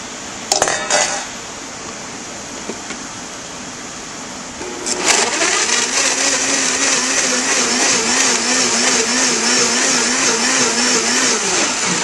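A blender purees fresh strawberries for strawberry lemonade, starting with a few clatters before the motor surges into a loud, steady whir that holds to the end with a wavering, churning tone.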